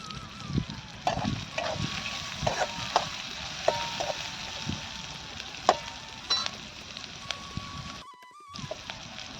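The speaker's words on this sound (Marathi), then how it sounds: "थोडंसं टाकलं त्यामध्ये तेल आता तळायचा मस्तपैकी" Oil sizzling in a pan while frying for a Dhangar-style tomato chutney, a steady broadband hiss with scattered pops and stirring clatters, fairly close, briefly cut out near the end.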